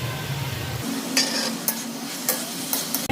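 Fried prawns and potato stirred in a pan for a Bengali banana flower and coconut dish, a steady sizzle broken by several sharp scraping strokes of the spoon against the pan.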